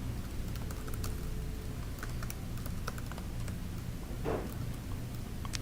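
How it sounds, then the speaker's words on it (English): Steady computer-keyboard typing as a seller's name is entered into listing-management software, a continuous patter of light key clicks against a low background hum, with no talking. "Here you'll type in the name of the seller."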